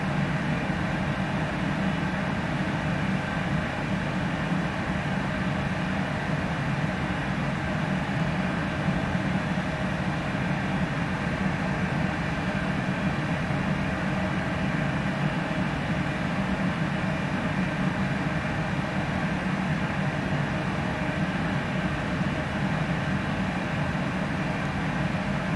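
A PMDG 747-400 in a flight simulator game rolls for takeoff, a steady, loud broadband jet roar with a constant rumble and hiss that barely changes throughout.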